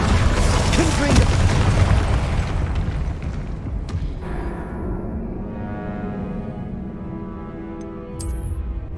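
A Confringo fire spell bursts in the Hogwarts Legacy game with a loud, booming blast that roars and slowly fades into a crackling, ringing tail. Faint voices sit under the explosion.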